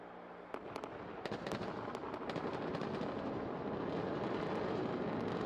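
Falcon 9 first stage landing burn, a steady loud roar of rocket engine thrust with sharp crackling pops, building slightly and continuing without pause.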